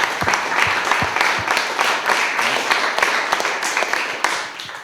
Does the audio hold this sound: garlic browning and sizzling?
no